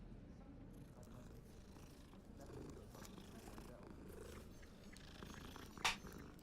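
In Hogwarts Legacy, a cat purrs softly and steadily while being petted, set against a low, busy game ambience, with a brief sharp accent near the end.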